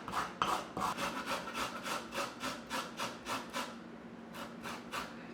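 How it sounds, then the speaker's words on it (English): Fresh turmeric rubbed over a fine grater, a close, soft rasping in steady rhythmic strokes, each scrape a quick dry swish, with a brief pause near the end before a few more strokes. "I'm going to take my very fine grater and just going to grate up some turmeric."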